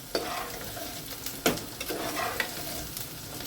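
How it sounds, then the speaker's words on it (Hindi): Small soybean chunks fry and stir in hot oil in a pan, giving a steady close sizzle with several sharp scrapes and clinks of a spoon against the pan. "तो हम सोयाबीन जो है इसमें फ्राई कर लेंगे।"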